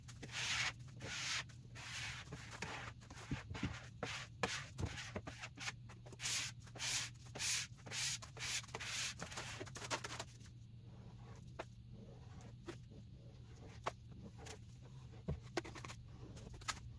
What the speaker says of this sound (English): I'm going to use a big scraper this time just to get more done faster.